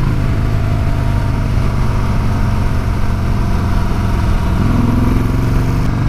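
A cruiser motorcycle engine drones steadily and loudly while riding, a constant low rumble with no clear shifts and no talking.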